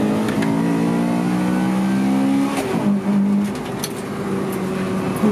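A car drives over gravel with its engine revving in steady mid-pitched tones that dip and climb again, alongside a constant crunchy rumble of stones under the tyres.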